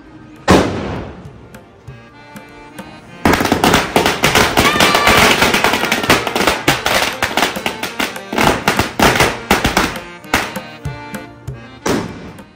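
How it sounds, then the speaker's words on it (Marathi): A long string of firecrackers bursts in a rapid, loud crackling volley lasting several seconds, preceded by a single sharp bang, with the pops thinning out toward the end and faint voices around. "तर आता ना एकदम मोठी जी लढ आहे ना ती लावून घेऊ"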